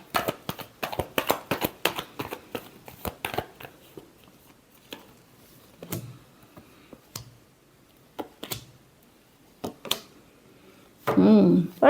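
Tarot cards being shuffled make a rapid flurry of crisp riffling clicks at first, then sparser single snaps and taps, with a person talking near the end.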